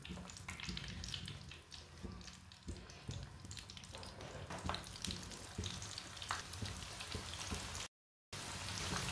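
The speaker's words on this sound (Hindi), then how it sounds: "अब पकौड़ों को मैंने डाल दिया है।" Hariyali pakoras fry in hot oil with a dense, rain-like crackling sizzle and scattered pops, steady and close, with a brief dropout near the end.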